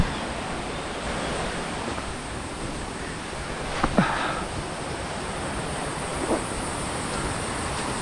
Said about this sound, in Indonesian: Air terjun keren.